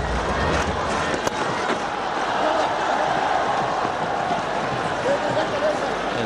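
Packed cricket stadium crowd at an India vs Pakistan final, a steady distant roar and murmur of thousands of spectators under continuous commentary.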